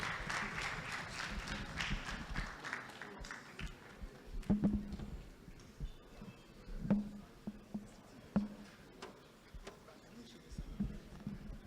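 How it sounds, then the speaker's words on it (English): Audience applause at a business and government dinner during a bank directors' conference, a steady wash of clapping through the whole stretch with brief louder sharp claps standing out over a background of crowd noise. "Can we please give her a round of applause?"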